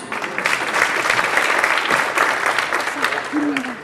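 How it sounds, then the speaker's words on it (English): Audience at an evening charity auction fundraiser applauding, sustained loud clapping from a crowd, with some voices mixed in and a brief tonal squeak near the end. "So give yourselves a round of applause."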